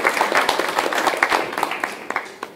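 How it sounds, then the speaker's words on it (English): Audience members at a community clean energy forum in Northampton clap together in a brief round of applause, with distinct individual claps close by and the applause thinning out toward the end. "So I think we should all give yourselves a round of applause"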